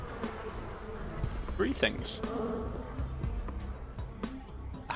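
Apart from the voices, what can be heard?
buzzing of infection in the video game Pathologic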